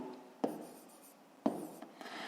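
Pen or chalk writing out a maths exercise on a surface, quiet scratchy strokes in two short bursts with soft rubbing between, close and faint with no speech.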